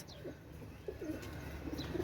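Mukhshi (Muslodum) pigeons cooing softly in low repeated calls, close but quiet, with a faint high chirp and steady background hum.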